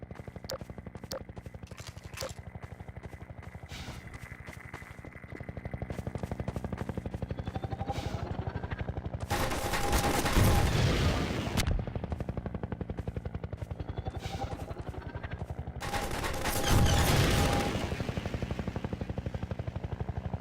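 Gunfire in a Half-Life 2 mod video game: a steady rapid rattle of automatic fire runs throughout, with two louder, broader blasts standing out over the mechanical drone, and no talk.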